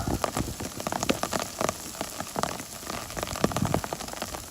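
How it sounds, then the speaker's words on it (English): Hail falling on the ground along a Sierra Nevada stretch of the Pacific Crest Trail, heard as a dense, steady patter of sharp ticks and small impacts close by, continuous throughout with no talk. "that's hail."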